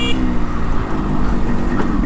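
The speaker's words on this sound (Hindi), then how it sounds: "खाली रोड पे क्या हॉर्न मार रहा है?" A car horn honks on an open road beside a Yamaha RX100 motorcycle, a steady loud tone that fills the short stretch over continuous engine and road noise.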